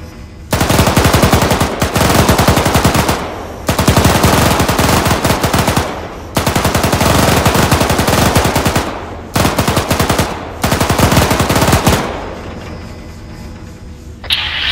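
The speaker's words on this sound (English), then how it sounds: "I appreciate how many machines guns this has." Machine gun fire in the Arma 3 Antistasi game mode on Altis, with long loud sustained automatic bursts separated by short pauses and a quieter tail at the end.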